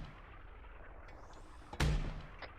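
A single loud artillery blast from a military video game, sudden and booming with a short rumbling tail, set against low background noise.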